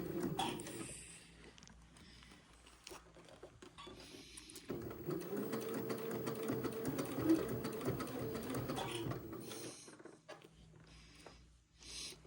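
A sewing machine runs steadily for about ten seconds, stitching the lining of an Eton suit into place, its motor whirring and needle clattering up close with brief pauses at the start and end.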